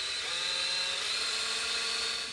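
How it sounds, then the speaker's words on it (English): Power drill spinning a length of wire to clean out holes in a board, a thin high whine held steady and fairly faint throughout. "put a piece of wire in a drill and clean each one of those holes just by holding that wire in and slowly putting the drill on"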